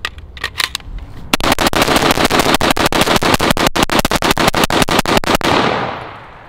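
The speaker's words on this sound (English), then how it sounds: "This is a semi-automatic trigger." Rapid semi-automatic rifle fire with a semi-auto trigger outdoors, a fast, steady string of about twenty sharp, loud shots after a few scattered opening shots, ending with a fading echo.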